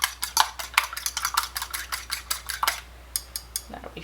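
Eggs are whisked in a bowl with a utensil, giving rapid, close clinking and scraping strokes in quick bursts that thin out into a few separate taps toward the end.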